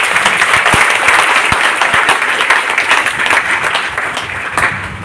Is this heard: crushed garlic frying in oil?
no